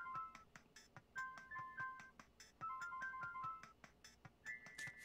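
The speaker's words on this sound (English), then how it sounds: "This new Brain Creek ringtone is hot!" Electronic ringtone in the Homestar Ruiner video game, a quiet chiptune melody of short beeping notes in bursts with brief pauses, ending on a held tone.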